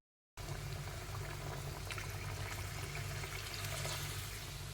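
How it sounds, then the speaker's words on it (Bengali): Water pours steadily into a pot of magur fish curry, a continuous rushing splash that starts abruptly and holds at an even level for several seconds. "এবার জল দিয়ে দেবো।"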